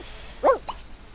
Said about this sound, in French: Arrête de répondre aux chiens du quartier.